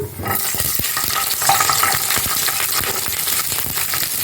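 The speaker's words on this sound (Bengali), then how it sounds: "রসুন কুচি দিয়ে রসুন দিয়ে দিলাম" Chopped garlic dropped into hot oil for a chicken rajma dish crackles and sizzles loudly up close, with stirring scrapes and light clinks of a utensil against the pan.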